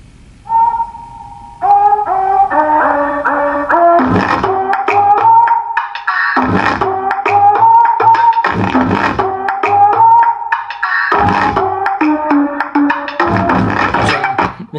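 Music playing through a PAM8610 amplifier board fitted with a tone control, loud and continuous with a steady beat and layered melody, starting quiet before jumping up in volume and running to the end.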